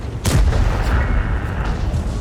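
A single heavy high-explosive shell fired in an online war video game booms out sharply, then its rumbling tail fades under light background game noise.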